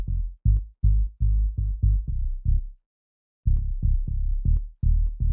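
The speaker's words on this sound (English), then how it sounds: "so that when the kick hits, we are ducking this." Deep sub bass in a dance-pop remake, sidechain-ducked to the kick so it swells back in after each hit in a steady pumping rhythm, with a brief gap midway; loud and alone.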